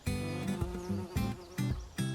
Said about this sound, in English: And it's alive with bees.